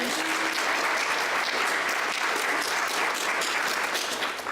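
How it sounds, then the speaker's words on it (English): Sustained audience applause for three volunteers at a live talk, dense steady clapping filling the room at even loudness throughout. "Please give them a big round of applause."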